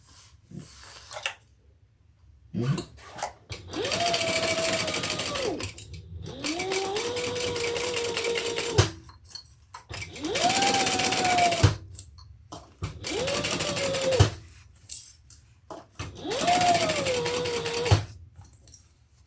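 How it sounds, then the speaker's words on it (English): A domestic sewing machine stitches the seam of a fabric handbag in five separate runs of steady mechanical whirring, each a few seconds long, with short quiet pauses between them and no talking. "we're going to sew that together at the seam allowance in the pattern"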